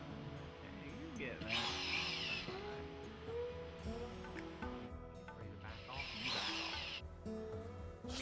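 Power drill driving drywall screws into a wooden support board behind a wall opening, two quiet whirring bursts separated by a pause, with a voice talking quietly over them.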